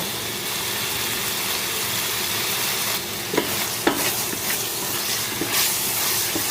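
Pork brain cooking in a pan, a steady, loud hiss of frying and sizzling, with a few light clicks of stirring near the end and no talk.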